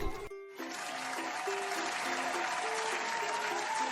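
An audience on a comedy news show bursts into dense, steady applause that carries on for several seconds, with a music tune sounding over the clapping.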